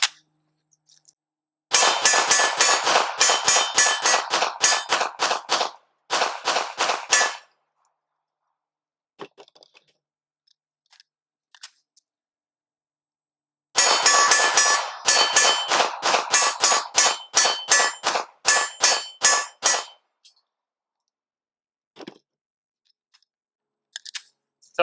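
A Canik TP9SF pistol fires during a 1,000 round endurance test in two long strings of rapid, sharp shots, each string lasting several seconds and separated by a quiet pause with a few faint clicks.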